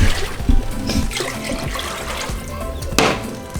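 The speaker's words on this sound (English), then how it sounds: "I'm just going to add the water to my pot" Water poured into a pot of beans for frijoles charros, a gushing, splashing flow with a few knocks and clatters, close and fairly loud.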